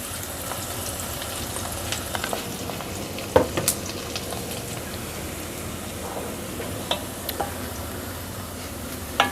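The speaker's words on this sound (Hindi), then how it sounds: "तो अब हम इसको पिंक होने तक फ्राई करेंगे" Chopped onion frying in a pan for a spinach and chana dal dish, giving a steady close sizzle throughout with occasional small clicks and ticks of stirring.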